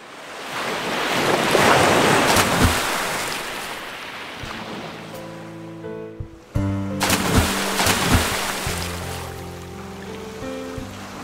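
Loud, wind-buffeted sea waves surge and swell in a continuous rushing wash, fading after a few seconds into a different scene with music-like tones and splashes.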